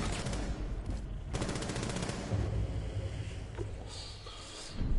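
Fully automatic gunfire in a video game rattles on in loud, sustained rapid bursts that fill the whole stretch, with only slight dips between volleys and no one talking.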